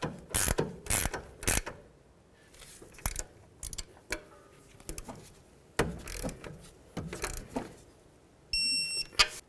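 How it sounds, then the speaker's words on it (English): Ratchet wrench tightening a front sway bar link nut on a Dodge Journey, heard as short bursts of clicking with scattered metallic clanks and creaks at moderate volume, interrupted by gaps. "We'll also use a ratchet wrench, and of course we'll hold the stud while we turn this clockwise to tighten it"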